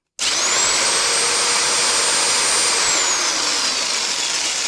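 An electric jigsaw runs continuously at high speed, a loud, steady, shrill whine with a piercing high tone that starts abruptly and holds, close to the microphone, with no talking.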